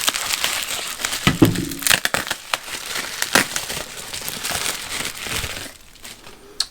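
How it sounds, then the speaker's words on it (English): Heat tape is peeled and pulled off a Ford 6.0 diesel FICM unit by gloved hands, making irregular crinkling and crackling with sharp tearing snaps, close and fairly loud, easing off toward the end. "Let's go ahead and get this heat tape swapped off."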